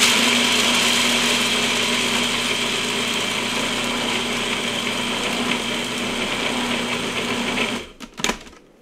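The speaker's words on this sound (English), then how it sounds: "I'm just going to blend it all up in the food processor, or chop it, I should say" A food processor whirs steadily as it chops a raw buckwheat pizza crust mixture, a loud continuous motor hum that stops near the end, followed by a few clunks.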